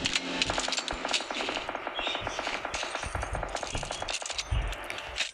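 Weapon reloading in a Turkish-language shooter video game played with drop weapons, heard as dense rapid mechanical clicks and metallic clatter over steady game noise, with a few heavier thumps late in the clip.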